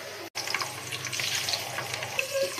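Steady sizzling of whole spices (star anise, black cardamom, cinnamon, cloves, cumin) with a little carrot and capsicum frying in oil, a soft continuous crackle with a brief dropout near the start.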